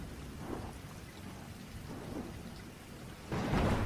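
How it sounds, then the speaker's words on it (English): Steady rain drums on the dented roof of a car during a thunderstorm, with low rumbles beneath and a louder burst of downpour near the end. "the rhythmic thump of the rain hitting the dented roof of my car"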